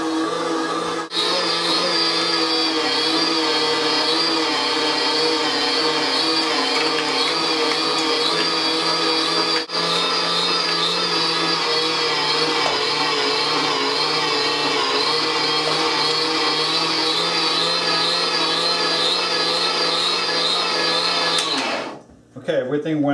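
A cold meat grinder with a pre-chilled attachment works pork and fat for garlic sausage, whirring loud and steady with a harmonic motor whine. It runs close and alone for about 22 seconds, then winds down abruptly at the end.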